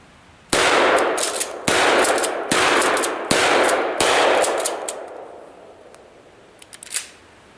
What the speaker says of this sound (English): let's go ahead and shoot this shotgun right here and see how this bugger operates